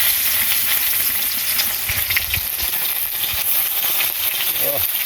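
Fish coated with spice and egg fries in hot oil, giving a steady, close crackling sizzle that runs throughout with occasional stirring clinks.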